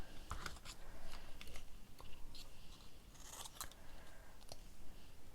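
Scissors snip through material at a desk during a craft class, giving several short, crisp cuts spaced irregularly with shuffling handling noise between them.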